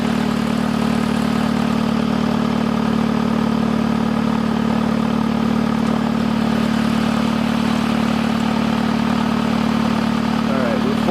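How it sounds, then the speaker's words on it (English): A Hyundai Elantra's engine idles with an exhaust leak, a steady, loud, close rumble holding an even drone for about eleven seconds without voices. "This has an exhaust leak too, I can hear that."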